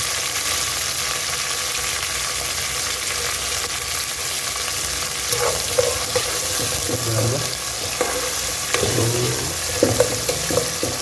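Ingredients for a Hogenakkal-style fish curry, including onions, green chillies and curry leaves, sizzle and fry in a pan, a continuous loud hiss broken by scraping stirs and clinks toward the end.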